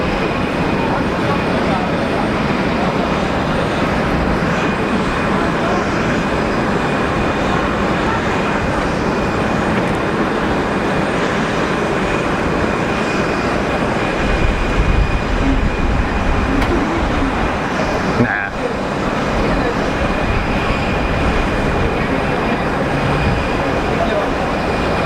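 Jet engines of an airliner roaring through a rejected takeoff at Geneva Airport: a steady, broad, distant rumble that holds for the whole stretch, with faint voices underneath.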